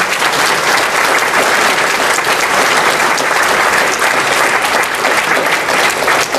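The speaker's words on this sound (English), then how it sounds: "Let's give Gideon a big round of applause." A lecture audience gives a loud, sustained round of applause for the speaker after a talk on aloes and their relatives, many hands clapping densely at a constant level with no voices.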